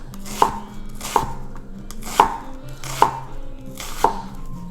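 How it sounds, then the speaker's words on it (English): A knife chops through onion on a cutting board in five evenly spaced, crisp single strokes, close and clear with no talking. "Chop up some of the onion."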